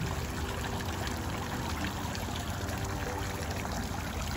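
Water splashes steadily from an entrance fountain at the Royal Palms Resort & Spa in Scottsdale, Arizona, a constant, even rush of falling water with no voices.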